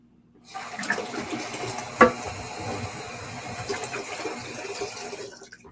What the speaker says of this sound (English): And hold on, I gotta wash this off.